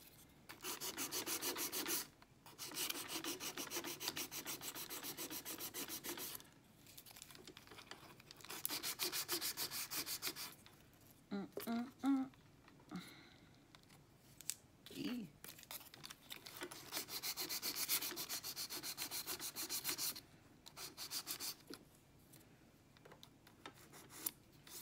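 A small electric nail drill whirs in repeated bursts of high-pitched grinding while filing nails, stopping and starting, with brief quiet speech between passes.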